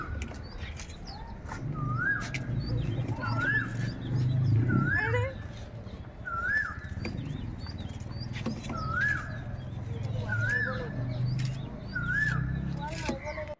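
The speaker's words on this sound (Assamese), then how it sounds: "কিন্তু গুৱাহাটীত এতিয়াৰ পৰাই কুলিয়ে মাতিলেই দেই" An Asian koel calls repeatedly in Guwahati, its rising whistled notes coming at regular intervals, clear but moderately distant over a low background hum and faint household noise.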